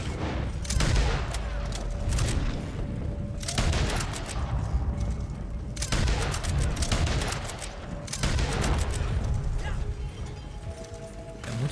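Carcano rifle fire in Red Dead Online comes as repeated bursts of sharp shots separated by mechanical bolt and reload clatter, cycling several times at a moderate distance.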